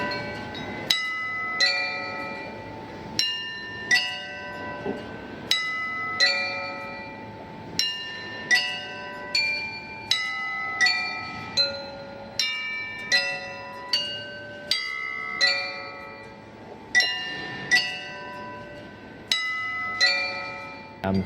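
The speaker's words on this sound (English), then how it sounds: "hitting like a crystal-made bells" Clear, ringing crystal bell tones struck mechanically in a steady repeating pattern, bright chimes overlapping and decaying, like a small automated glass carillon.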